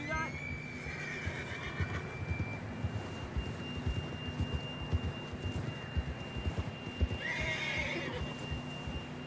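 In Red Dead Redemption 2, a horse whinnies over the steady clip-clop of its hooves on a rainy trail, a second neigh rising near the end, with low rumbling ambience beneath.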